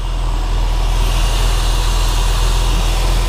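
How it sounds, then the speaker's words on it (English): A 1998 Porsche 911 996 engine running at the rear of the car, a loud, steady close idle with a constant low rumble and even mechanical hum. "So the engine's running round to the back now."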